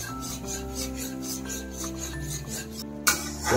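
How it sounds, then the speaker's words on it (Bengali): Mango ginger and fish mixture with salt and turmeric powder being stirred and fried in a pan, a continuous rasping scrape of a utensil against the pan with a steady hum underneath and a sharp clatter near the end. "ভালো করে এটাকে নেড়ে চেড়ে কষাতে হবে।"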